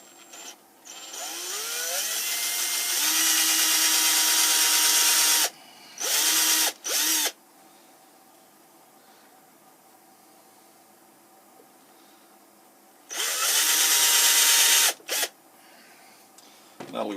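A power drill spots a hole in a Grizzly G0602 lathe tailstock. It whines in three separate bursts: one long run, two short blips, then another long run, with near-silent pauses between them.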